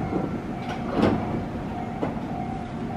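Tobu 50050 series train departing Sengendai station on the Tobu Skytree Line, with rail clatter and a couple of rhythmic wheel thumps over about three seconds, close and fairly loud.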